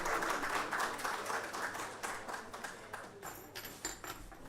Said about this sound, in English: Audience shall put a round of applause and welcome Professor Regina appear upon our chair for this session.